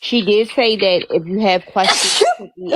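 A woman sneezes once, sharply and close, between stretches of her own casual talk.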